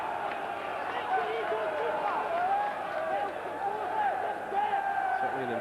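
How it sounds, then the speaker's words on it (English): Enthusiastic football crowd at Tannadice stadium during the Dundee United v Partick Thistle Premier League play-off second leg: a steady roar of chanting and shouting voices, with a commentator talking over it. "Certainly an enthusiastic crowd inside Tannadice tonight."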